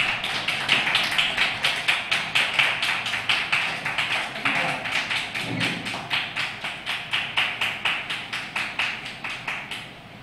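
Audience at an astrology event applauds in steady, rhythmic unison claps, a long even series of sharp beats that fades slightly near the end.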